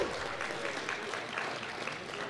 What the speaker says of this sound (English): All right, round of applause for the swap.